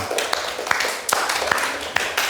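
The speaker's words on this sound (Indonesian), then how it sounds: "Yuk tepuk tangan buat kelompok 2." A classroom claps for a student group, a short burst of brisk, fairly close applause from a small crowd of students.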